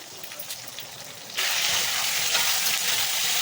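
Tomatoes frying in a pan for fish curry, stirred with a utensil: a soft sizzle that jumps to a loud, steady broadband hiss as the stirring begins, with no talk.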